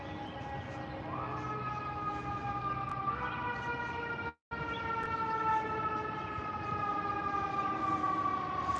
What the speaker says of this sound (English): You might hear an ambulance, like a siren we do now, right now, for that actually is fire truck.